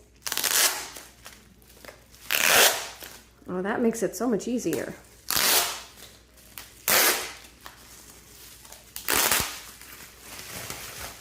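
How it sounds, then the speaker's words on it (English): Repeated loud ripping and peeling bursts of adhesive tape pads being pulled apart, close up, with a voice talking between them. "these are tape pads, so excuse the noise"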